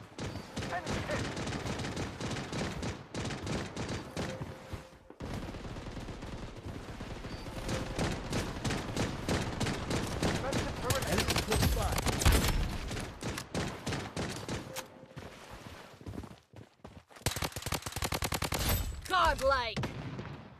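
Rapid gunfire bursts from the Bloodstrike battle royale shooter crackle loudly through most of the stretch, with dense automatic volleys broken by brief pauses and a final sharp flurry near the end.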